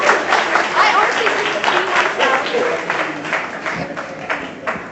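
Audience clapping on a red carpet, steady broadband applause filling the whole stretch with scattered louder claps, mixed with crowd chatter and voices.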